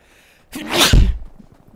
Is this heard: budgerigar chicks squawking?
no